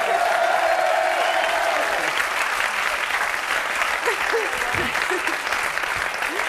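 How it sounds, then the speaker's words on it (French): A studio audience applauds loudly and steadily at a French talk show, dense continuous clapping with a voice briefly heard over it. "Bravo, on peut l'applaudir très fort"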